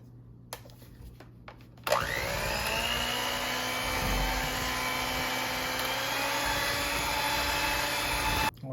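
An electric mixer whips cream flavored with vanilla extract, starting abruptly after a few clicks and holding a loud, steady whirring drone for about seven seconds before cutting off.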